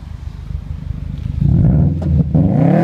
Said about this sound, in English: We're gonna step on the gas, let you hear the exhaust.